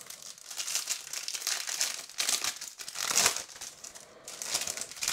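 A 2010-11 Panini Zenith NHL hockey trading card pack is torn open, its foil wrapper crinkling and crackling continuously and close up for about five seconds, with no talking.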